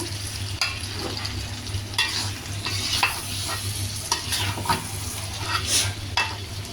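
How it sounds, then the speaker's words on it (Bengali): Chicken sizzling loudly in a hot pan while a spoon stirs it, with continuous close frying hiss broken by repeated scraping and tapping strokes, and no talk. "মুরগিটা ঢেলে দিলাম। এখন আমি এটাকে মিক্সচার করে নেব।"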